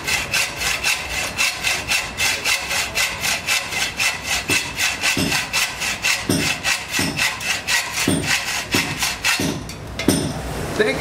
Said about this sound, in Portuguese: A nossa posição aqui também é ruim, mas dá para serrar aqui, ó.